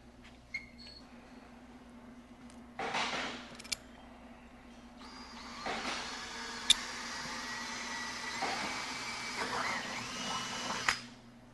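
A power drill whirs steadily for several seconds drilling a seat frame for mounting, its motor rising and holding, with brief clicks and clunks of handling before and after.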